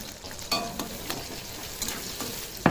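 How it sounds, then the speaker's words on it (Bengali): Chopped onions hit hot oil in a heated kadai for a shrimp and bamboo shoot dish, giving a steady close sizzle with a few sharper crackles and stirring clatters, no talking. "তেলটা গরম হয়ে গেছে, পেঁয়াজ দিয়ে দেবো।"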